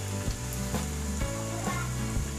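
A rolled snack for schoolchildren frying in hot oil over a low flame gives a steady, close sizzle, broken by a few soft utensil knocks.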